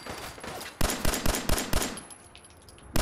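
Gunfire in Fallout 4, a rapid string of about six loud, close shots in a quick rhythmic burst, then a short lull and one more sharp report.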